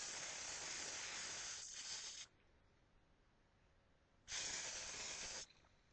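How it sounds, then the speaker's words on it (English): Two hissing bursts from a hair spray bottle, the first lasting a couple of seconds and the second shorter after a quiet pause, close and fairly soft, with no talking. "then I spray it again."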